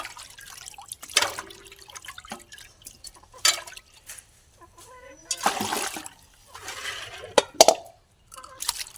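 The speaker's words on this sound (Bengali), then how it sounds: "খুব ভালো মতো করে 2-3 বার পরিষ্কার জলে ধুয়ে নিতে হবে।" Chicken meat is rinsed two or three times in clean water, with intermittent splashes, sloshing and drips in bursts separated by quiet gaps, close and moderately loud.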